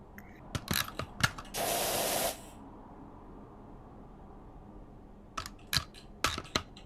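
A virtual pressure washer spraying in Powerwash Simulator VR, one short hissing blast, with clicky controller and mechanical ticks before and after it.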